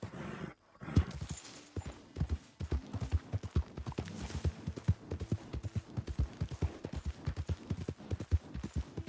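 Horse hooves gallop steadily in Red Dead Redemption 2, a fast continuous clip-clop rhythm that stays close and fairly loud throughout, with no voices over it.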